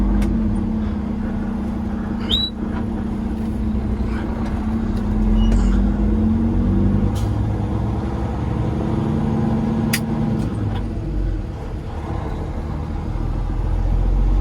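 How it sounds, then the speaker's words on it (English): Steady low truck engine drone runs throughout as the driver works through a gear shift, with a brief surge in the rumble midway and faint clicks and cab noises above it. "let me see if I can shift gears"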